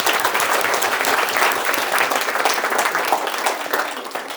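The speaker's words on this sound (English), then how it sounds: "let's give them another round of applause" A large audience gives the organizing team of a student startup competition a sustained round of applause, dense and steady clapping that fills the whole stretch without any speech over it.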